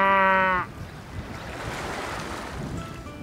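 Ocean waves wash against the shore of Cheongsando island, a steady rushing surf with wind noise that follows a short musical tone at the start, with no talking.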